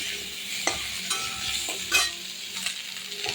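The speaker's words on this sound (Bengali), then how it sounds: "মাছ ভাজা তেলটা রয়েছে সেই তেলের ভিতরে আমি কুমড়োর আলুটাকে দিয়ে দেবো" Pumpkin and potato pieces fry in oil left over from frying fish, a steady close sizzle broken by repeated scraping knocks of a spatula stirring the pan, no voices.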